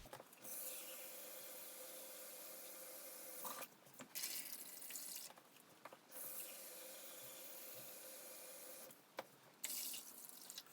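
Tap water running into a pot filled for eco dyeing, a steady hissing stream broken by a few short pauses as the flow stops and restarts, close and fairly quiet.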